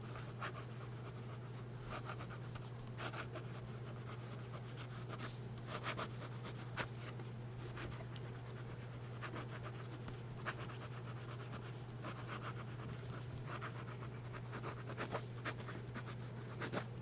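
A Jinhao 992 fountain pen writes quickly across paper, giving a faint, continuous scratchy rub with short quick strokes over a steady low background hum.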